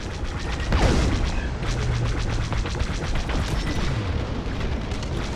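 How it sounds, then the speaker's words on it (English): Heavy fire and explosions pound a Corvette in the Star Wars Squadrons space game, with booming blasts and crashing impacts, a sweeping roar near the start, then a dense rapid stream of shots over constant rumbling battle noise. "Our Corvette is taking heavy fire."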